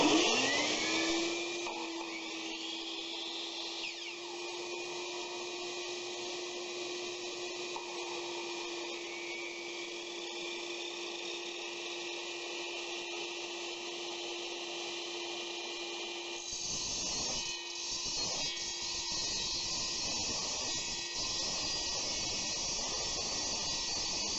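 A saw fitted with a Concord metal-cutting blade runs with a vacuum hooked up to it, giving a loud, continuous motor drone and whine. The sound holds steady, then shifts slightly rougher partway through, with no talking.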